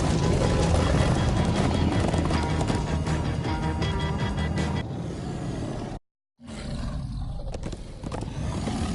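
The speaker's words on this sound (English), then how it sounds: "Come on, horses!" Horses in the game Minecraft gallop in a loud, dense rush of hoofbeats and animal cries that fill the first six seconds, cut off by a brief dropout, then resume more softly.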